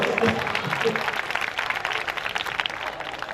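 An audience claps at a public speech for a Beti Bachao campaign event in Palamau, Jharkhand: steady, broad applause from a crowd that holds for several seconds at even loudness.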